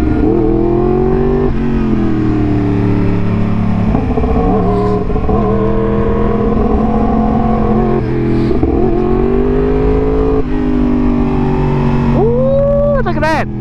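A Suzuki Gixxer motorcycle engine held in first gear on mountain roads, a loud continuous drone rising and falling through repeated throttle swells, close, with a rider talking over it.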